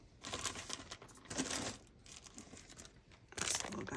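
A small plastic bag crinkles close by, soft irregular rustling and crackling in several bursts with brief quieter gaps, fairly faint and with no talking.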